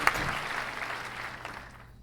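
A short burst of applause plays as a sound effect in the video game Blue Prince, starting with a sharp hit and fading out over about two seconds.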